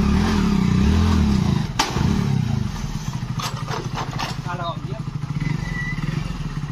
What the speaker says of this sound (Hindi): ये हमारे राइडर हैं जो नई वाली स्प्लेंडर प्लस को सबसे पहले चढ़ाएंगे।